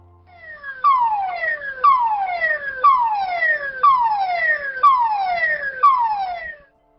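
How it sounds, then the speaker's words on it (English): An oil rig gas leak alarm gives a loud series of about six whooping tones, each falling in pitch, one per second in a steady rhythm, alone and close before stopping. "In case of a gas leak, you will hear this alarm."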